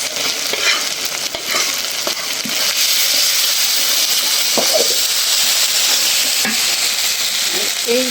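Shrimp frying in a kadai, a loud steady sizzle and hiss heard up close, with occasional scrapes and light clatters of a spatula stirring.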